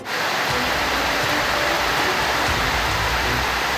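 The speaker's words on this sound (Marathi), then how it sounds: "नाशिक जिल्ह्यात विजेच्या कडकडाटांसह पावसाची जोरदार हजेरी" Heavy rain pours down steadily in Nashik district, India, a dense, continuous roar of water with no pauses, loud and close throughout.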